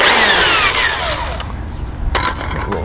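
A power drill spinning a grout mixer whirs steadily with a gritty mixing churn, then briefly cuts out and restarts, close and loud.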